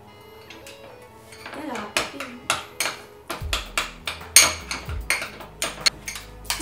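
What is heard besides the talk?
stirring a homemade face mask mixture in a bowl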